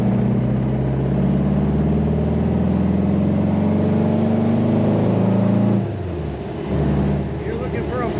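A 1966 Volkswagen Beetle's engine pulls in third gear through a corner, a steady, loud, low air-cooled drone that then drops off as the car slows, with someone talking over it.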